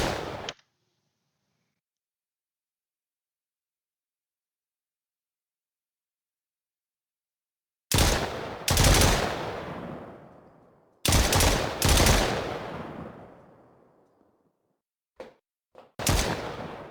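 Bursts of rapid projectile gunfire in an Unreal Engine 5 multiplayer game, loud and sharp with ringing tails, separated by long silences and ending in a few single shots.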